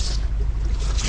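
A boat engine offshore at sea during tropical storm preparations in Old Harbour Bay, Jamaica, a steady distant low rumble blended with wind and surf that holds constant throughout.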